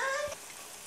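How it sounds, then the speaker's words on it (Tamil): Coconut and jaggery roasting in a pan for sweet kozhukattai filling, with a brief, soft sizzling hiss that fades quickly. "இப்போ இதை நல்லா கலந்துட்டு நல்லா ட்ரை ஆகிற வரைக்கும் வறுத்துக்கோங்க"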